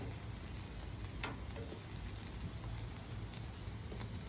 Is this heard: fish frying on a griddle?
yes